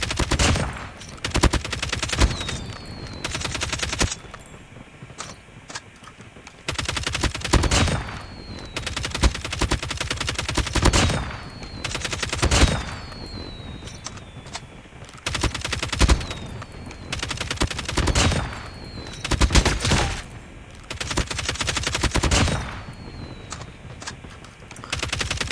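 LK24 assault rifle fire in a Call of Duty ranked match: repeated loud, close bursts of rapid automatic shots separated by short pauses, recurring steadily.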